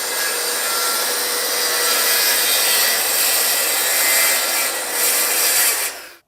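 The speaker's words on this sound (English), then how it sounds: "Now I'm getting ready to cut the piece that's going to make up the back." A saw cutting through a wooden board for the back panel of a DIY subwoofer box, a loud, steady rasping whine close up that runs for several seconds and then stops abruptly.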